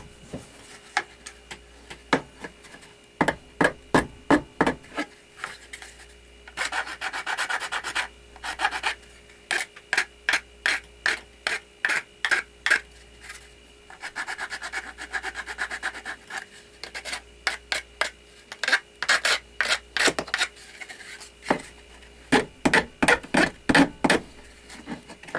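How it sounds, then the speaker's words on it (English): Hand rasp filing the edge of a Kydex knife sheath, heard as bursts of rhythmic scraping strokes with short pauses between sets, close and fairly loud, with no talking. "Take a little bit of a rasp"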